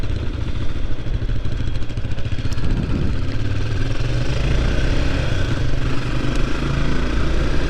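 A restored Honda GB250 Clubman motorcycle engine runs loud and close, its steady rumbling drone continuing without a break and with no voices.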